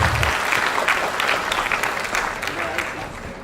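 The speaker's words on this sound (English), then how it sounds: "Can you please give a big round of applause?" Audience applause at a conference session on mental health, food security and epidemic management, a dense steady patter of many hands filling the room with a faint murmur underneath, fading slightly toward the end.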